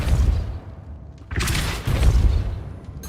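The Depulso spell cast in Hogwarts Legacy lands as a couple of heavy booming thumps with a sharp burst, loud and close, separated by a brief lull of low rumble.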